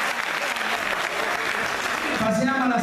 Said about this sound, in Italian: Applauso a loro.